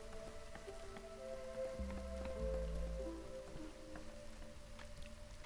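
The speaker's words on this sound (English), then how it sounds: "And now we are in a drizzle." Drizzling rain in the city-building video game Against the Storm, a soft steady patter and hiss of light rain that runs throughout, layered under sustained tonal game music.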